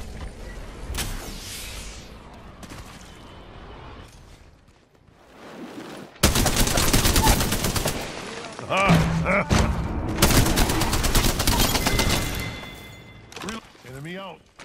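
Gunfire and heavy impacts in Apex Legends burst out in loud, dense volleys after a quieter stretch, mixed with booms and thuds, while voices talk over the action.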